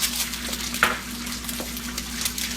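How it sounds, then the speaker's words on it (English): Three eggs are dropped into a very hot pan of olive oil for hibachi rice, giving a soft, steady sizzle with a brief sharper crackle near the start, heard close and alone. "My pan's already real hot, so you just move that around a little bit and quickly drop those 3 eggs"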